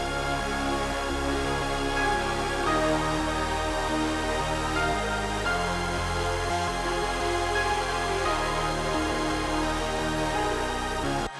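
Layered chorus synths from a metalcore synthwave track play together in a dense, loud, continuous wall of sound with a steady low end and shifting chords, with no talking over it.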